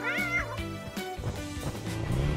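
Cartoon pet cats meow repeatedly as they are given treats, with several rising, drawn-out mews close up, layered over background music.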